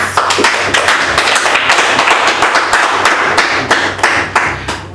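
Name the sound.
audience applause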